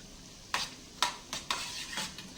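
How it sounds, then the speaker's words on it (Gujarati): Dal baati topped with ghee is stirred in a pan, with several sharp scraping strokes in quick succession over a soft sizzle, close and fairly loud. "ઉપરથી ઘી જશે અને બધી સરસ રીતે હલાવી દઈશું આપણે"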